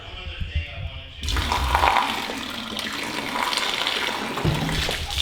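Water gushes and splashes out of a part removed from a Volvo sleeper truck during a repair, a sudden loud rush after a quieter start that keeps pouring and dribbling, with a voice briefly heard.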